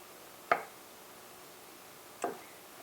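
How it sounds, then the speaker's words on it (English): A knife cuts the stems off Bella mushrooms, making two separate sharp, close taps about two seconds apart against a quiet background. "I like to cut the stems off."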